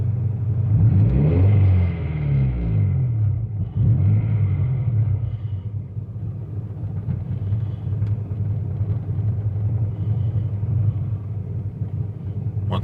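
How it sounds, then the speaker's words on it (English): A car engine fitted with a Yonaka catback exhaust revs up to a loud, deep rumble, then settles back to a lower steady drone, close and alone without talk. "Give her a couple revs."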